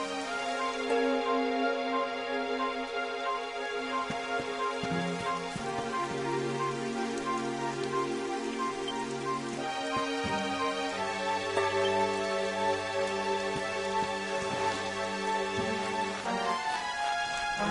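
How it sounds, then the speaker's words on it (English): Steady rain patters across the whole stretch in the video game Dragon Quest XI, mixed with sustained tonal music that shifts chords several times; no voices. "It would have to go and start raining,"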